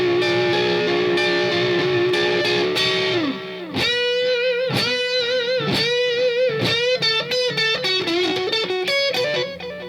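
Overdriven electric guitar played through an amp with a delay pedal set for a short slapback echo: sustained chords give way to rhythmic, repeating stabs and bends, loud and alone.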